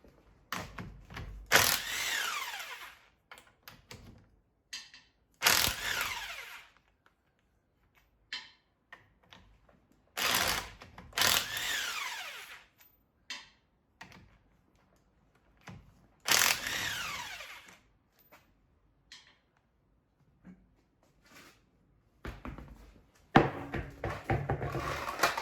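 A power tool, likely an impact-style wrench, pulls the wheels off a project car in loud, roughly one-second bursts, sometimes in pairs, with quiet gaps and small clicks and handling noises in between.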